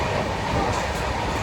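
Continuous roar and rumble of a passenger train running on the rails, heard from inside a carriage, steady and loud throughout with no pauses.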